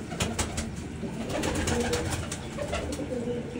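Pigeons coo steadily in a mud-walled breeding loft, with low throaty calls from several birds close by amid soft rustling, and no talking.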